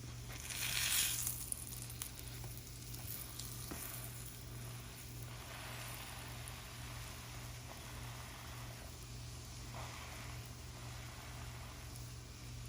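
Korean hotteok pancake sizzling steadily in a hot pan, a continuous close frying hiss with a brief louder burst near the start, no voices.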